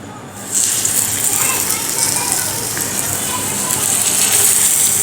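Stuffed pockets are dropped into hot oil in an iron pan and break into a steady, fairly loud sizzling hiss after a quiet half second, with a voice talking over it.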